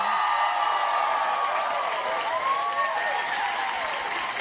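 Studio audience at a late-night talk show breaking into loud, sustained applause with some cheering mixed in, a dense continuous roar of clapping close to the microphone.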